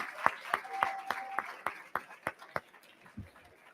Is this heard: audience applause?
yes